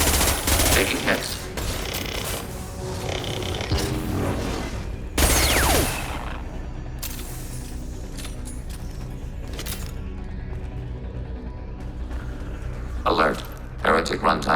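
Rapid gunfire and weapon bursts from the video game Mass Effect 2 crackle in dense volleys with occasional booms, mixed with game voices and battle effects throughout.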